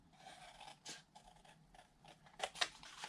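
Scissors making miter cuts along the paper edges of a handmade skinny purse gift bag give a few quiet, crisp snips and light paper scrapes, close and isolated in a hushed room.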